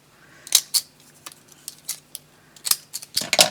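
Scissors snip at paper embellishments for crafting in a series of sharp, close clicks and short cuts, irregularly spaced, loud against a quiet room with no talking.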